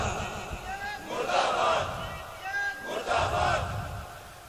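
An audience at an Urdu religious speech about Karbala chants slogans in two loud, swelling collective shouts about two seconds apart, over a murmuring crowd.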